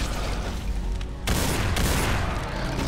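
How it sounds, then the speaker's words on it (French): Rapid bursts of gunfire in a video game crackle loudly and continuously, with a sharp jump in intensity partway through and repeated shots layered in a dense fusillade. "je dose chaque coup de feu, du moins j'essaye, histoire de pas perdre un coup de feu pour rien"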